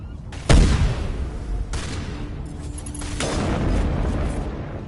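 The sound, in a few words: sniper rifle with explosive rounds firing, Mass Effect video game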